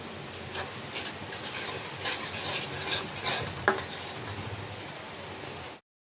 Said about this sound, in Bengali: মশলাটা কষাই নেব